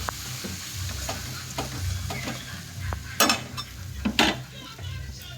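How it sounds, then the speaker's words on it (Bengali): Spice paste stir-fried in oil for a Bengali bhetki fish curry with eggplant and potato, giving a steady sizzle under repeated scraping and clinking of a spatula against the pan, with louder metallic strikes near the end. "মশলাটা ভালো করে কষিয়ে নেবো"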